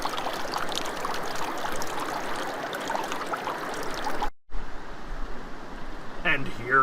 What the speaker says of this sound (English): Draining the water from the garnet gravels at Garnet Beach.